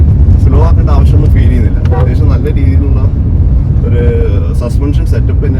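A Nissan Magnite EZ-Shift automatic drives along a road, a low steady engine and road rumble under someone talking throughout.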